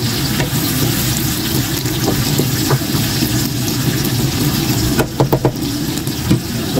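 Crushed tomatoes cooking in a pan, giving a steady, loud sizzling hiss with a few small pops and clicks, and a short cluster of sharper ticks near the end.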